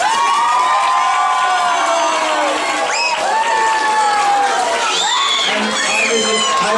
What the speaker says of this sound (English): So please, Dr. Chris, come to the stage with great applause